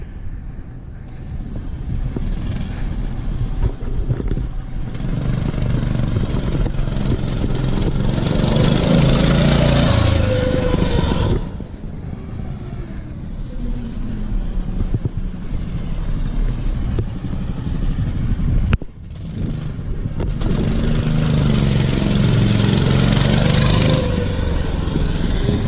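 A Mega Moto 212cc minibike engine runs loud and close, rising and falling in revs through several bursts, with brief drop-outs and a sharp crack that marks a backfire, amid some wind noise.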